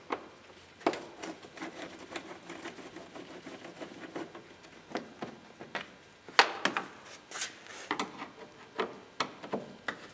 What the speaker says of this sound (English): Next, we remove these 2 screws. They have Torx interface.